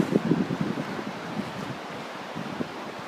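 Wind blows steadily across the microphone on open hunting land in northern Minnesota, a low rumbling rush with gusty buffeting and no voices.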